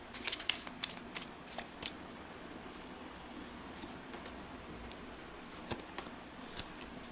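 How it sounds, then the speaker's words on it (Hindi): Affirmation cards shuffled and drawn from a deck during a tarot-style reading, with a burst of quick papery riffles at the start, then soft intermittent slides and flicks over a faint room hiss, no speech. "और जब ये देख रहे हैं तब के लिए ये अफर्मेशन कार्ड्स जो हैं वो निकालूंगी मैं"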